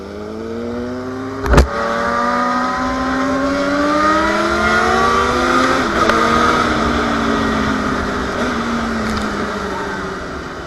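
A Suzuki GSX-R 750 sport motorcycle engine revs loudly up close at a car meet, its pitch climbing and sweeping through gears in a sustained roar, with a sharp knock near the start.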